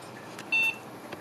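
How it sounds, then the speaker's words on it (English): A single short BIOS POST startup beep from a retro AMD Sempron computer, high and clean, sounding once against a faint, quiet room background. "We have the beep."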